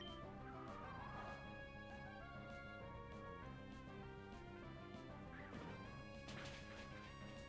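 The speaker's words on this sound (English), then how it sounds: "Kling Clang with the earth-shattering gear grind" Klinklang's Gear Grind attack in a Pokémon battle game: metallic smashing and crashing hits layered over busy, steady game music, with a sharper burst of impacts near the end.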